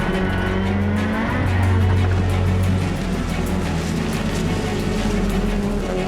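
Subaru rally cars race through a chicane at a rallycross event, engines roaring loud and steady throughout with sustained drone and some tire noise, no talk.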